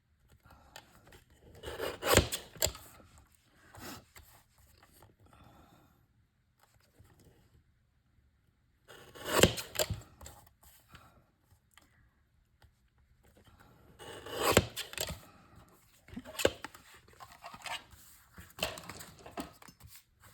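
A small wooden piece is trimmed by hand in a quiet workshop, giving intermittent short bursts of scraping and rasping separated by near-silent pauses, close and fairly soft.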